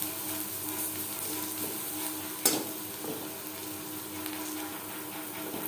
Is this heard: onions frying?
yes